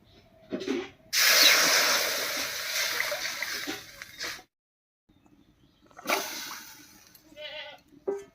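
Water poured into a hot wok over a stove for boiling taro, a loud rushing hiss and sizzle that fades over a few seconds, then a second brief burst of hissing, close up.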